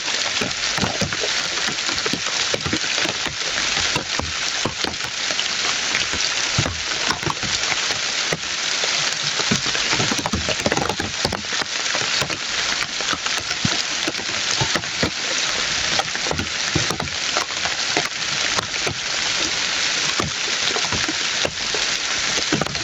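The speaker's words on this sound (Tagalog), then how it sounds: "ulan." Steady rain falls outdoors, a dense, even hiss of drops drumming on surfaces that holds at the same level throughout, with no voices.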